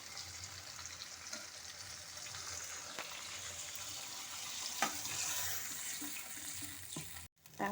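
Paneer gravy thinned with chhana water bubbles in a pan, giving a steady soft sizzle and simmer with faint stirring clinks, fairly quiet and continuous with no talking.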